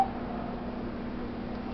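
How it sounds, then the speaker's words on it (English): A phone ringtone plays as a steady electronic tone, loud and close, holding alone for under two seconds. "I think this is my favorite ringtone on this phone."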